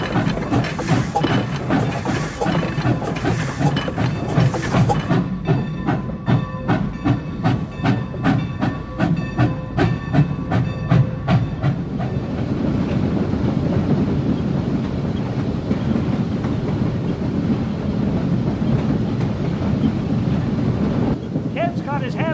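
California Skunk Train locomotive heard loud from inside the cab, starting with rhythmic chuffing bursts, then a dense mechanical clatter and roar that settles into a steady rumble with hiss.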